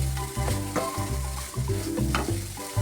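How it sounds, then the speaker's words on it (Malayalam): Fish masala with fresh coriander leaves is mixed for fish ada, a steady rhythm of close, repeated scraping and squishing strokes, with no voices. "ഇത് നന്നായി മിക്സ് ചെയ്യാം."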